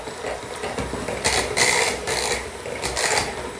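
A kitchen mixer runs with a rattling mechanical whir, its motor noise pulsing with repeated brighter surges every half second or so, moderately loud and close, with no talking over it.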